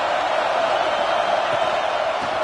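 Dense, steady roar of a stadium crowd in a football video game, holding at an even level throughout with no clear peaks, as fans try to keep the opposing team pinned deep in their own end.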